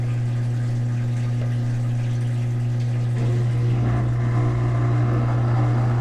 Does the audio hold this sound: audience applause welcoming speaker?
no